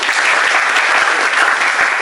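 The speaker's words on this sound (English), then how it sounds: "a big round of applause for Himanshu" Dense, loud applause from an audience at an architecture talk after a nearly two-hour session, steady broadband clapping filling the whole stretch with no voices on top.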